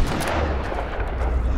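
Gunshots fired at a pig in the video game Tomb Raider, heavy booming blasts with a loud, sustained low rumble over about a second and a half, no talk.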